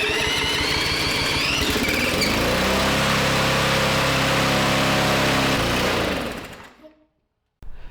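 A small carbureted engine on a throttle lock fires up and runs at a high, buzzy idle, loud and steady for several seconds before fading out.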